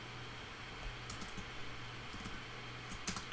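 A password is typed on a computer keyboard: a few quiet, irregular key clicks in small bursts over a low steady room hum, faint and close, with no talk.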